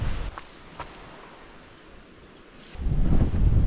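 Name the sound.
strong wind in Tasmania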